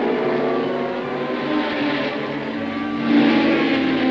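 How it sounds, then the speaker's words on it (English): A pack of seventeen Formula One cars, Jack Brabham's Repco Brabham among them, pulls away from the start of the Dutch Grand Prix over the dunes at Zandvoort, a steady loud engine drone that swells near the end. "17 machines set off over the dunes before an excited audience"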